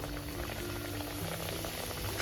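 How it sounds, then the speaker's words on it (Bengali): Close, steady sizzling and bubbling of spinach-and-paneer samosas frying in hot oil, continuous throughout without voices. "সমস্ত সিঙ্গারাগুলো গরম তেলের মধ্যে ওলট পালট করে ভেজে তুলে নিয়ে"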